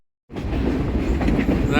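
Rumbling train noise on the Verde Canyon Railroad near Clarkdale, Arizona starts abruptly after a moment of silence, a steady rolling clatter close by, with voices faintly mixed in.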